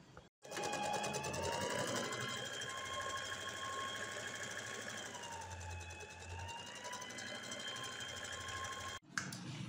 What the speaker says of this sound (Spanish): Desde acá debajo de la sisa, costura recta con overlock.